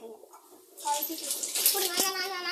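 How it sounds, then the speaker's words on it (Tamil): A child washes hands under running water, which starts abruptly partway through as a steady close splash while a young voice speaks over it. "கை கழிக்கிறான்"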